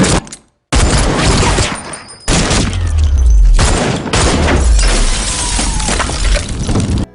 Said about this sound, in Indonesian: Yogi memberondong peluru kepada Seni hingga tewas.